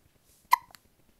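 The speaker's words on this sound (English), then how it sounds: "Oh, you got the hiccups?" A swaddled baby gives a single short, sharp hiccup, close and quiet, followed by a faint second catch of breath.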